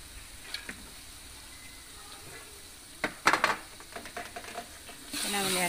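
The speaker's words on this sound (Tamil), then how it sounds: "புதினா மல்லி ஆட் பண்ணி ஒரு கிளறு கிளறிடுவோம்" Chopped mint and coriander being stirred into a mutton biryani pan, giving a faint low sizzle with soft scraping and a few clinks of a utensil against the pan in the middle, close and quiet.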